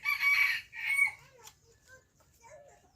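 A rooster crows loudly and close, a strained two-part call, followed by softer clucks and faint bird chatter.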